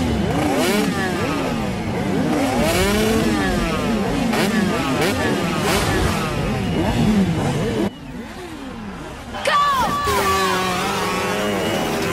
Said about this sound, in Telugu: వీడవడ్రా బైక్ ఎత్తుతున్నాడు